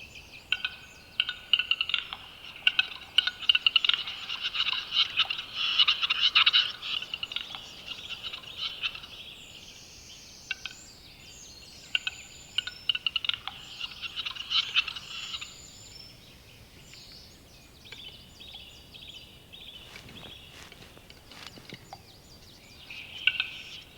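Male black grouse cocks calling in a courtship display on a Bavarian mountain display arena, a dense run of bubbling, rolling calls that fades after about fifteen seconds to scattered, fainter notes, with no talk.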